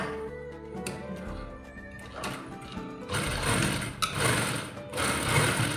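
A sewing machine runs a firm line of stitching on a churidar salwar, its needle chattering in rapid bursts separated by short pauses, fairly close and mechanical.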